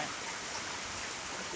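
Rain falling on a car in a rural village during a moderate evening storm with easing wind: a steady, dense hiss of drops pattering on the car body, continuous and even throughout with no voices.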